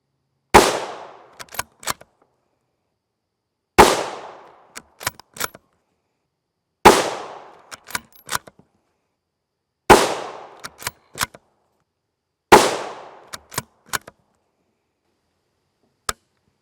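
A 22-inch TC Compass rifle with a 1-in-9 twist barrel fires 5.56 NATO 55-grain FMJ rounds: five loud, sharp shots about three seconds apart, each with a ringing decay and followed by a few quick metallic clicks, then one last faint click.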